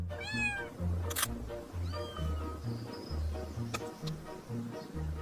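Cats meowing from an old abandoned house on a hill, several high, wavering meows at the start and around two seconds over a steady low rhythmic ticking background, fairly faint overall.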